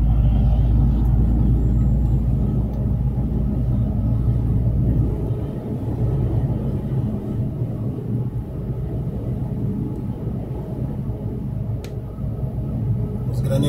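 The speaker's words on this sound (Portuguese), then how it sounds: "Os graneleiros vazios acelera, eles andam" Empty grain trucks travel along highway BR-364 in Mato Grosso, producing a steady, loud low engine and road rumble that continues throughout, with a brief dip midway and no distinct pass-by peaks.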